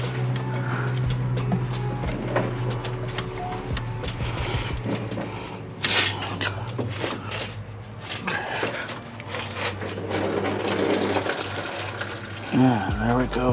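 Engine fluid drains from a Ford 460 into a drip pan, a running trickle with splashy liquid noise under a steady low hum and occasional clanks.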